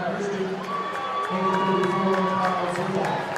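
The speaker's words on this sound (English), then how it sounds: "a little sarcastic cheer from the Blackhawk Christian faithful" A high school boys basketball crowd, the Blackhawk Christian fans at North Side, lets out a brief sarcastic cheer in a gym, a steady crowd roar with whoops and shouts under a commentator's voice.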